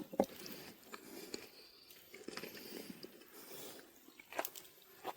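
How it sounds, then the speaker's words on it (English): Someone bites and chews a sandwich with crunchy lettuce at a forest camp, giving faint, close, irregular crunches and soft squishes with quiet gaps between them. "The lettuce is crunchy."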